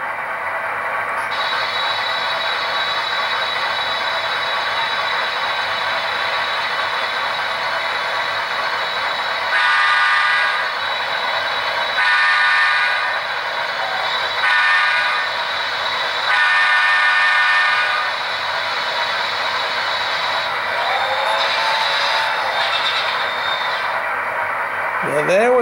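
Model train sounds triggered from an NCE Power Cab with radio: a steady mechanical hum and chuff with horn-like tonal bursts recurring between about 10 and 18 seconds, ending in a rising whistle-like sweep, loud and close throughout.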